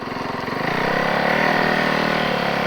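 A snowbike engine with a slipping clutch revs up close and loud, climbing from a rough, pulsing chug into a sustained high whine that holds without the bike pulling.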